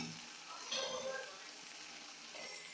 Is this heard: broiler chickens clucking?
no